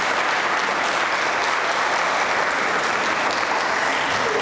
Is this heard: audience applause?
yes